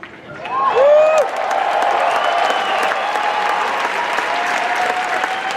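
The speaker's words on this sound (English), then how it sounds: "We'll give R2 and BB-8 and Oliver and Lee a round of applause." A large convention crowd at the Star Wars Celebration Anaheim 2015 opening ceremonies bursts into loud applause with whoops and cheers, peaking early, then settling into sustained clapping.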